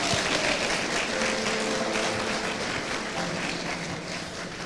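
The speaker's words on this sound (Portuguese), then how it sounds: "aqui uma salva de palmas pela vida do nosso" A church congregation applauds for their pastor, a dense steady wash of clapping from a large crowd, loud and continuous with faint voices mixed in.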